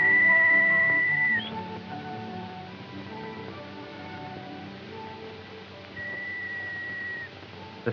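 A willow whistle gives a steady, clear, moderately loud tone at the start, then a second shorter blow near the end, with quiet outdoor background between.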